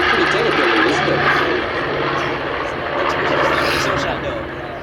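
A bomber aircraft flies overhead at the Sywell air show in 2024, its engines droning loudly and continuously with a broad roar, while people talk nearby.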